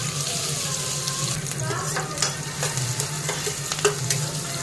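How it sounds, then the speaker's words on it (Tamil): Chopped onions sautéing in a pan over a low flame for fish and garlic kuzhambu, a close steady sizzle with repeated scraping strokes of a spatula against the pan, no talking. "ஸோ வெங்காயத்தை வந்து நல்லா ஒரு கம்மியான அளவில் ஃப்ளேம் வச்சு நல்லா வதக்கிக்கணும்."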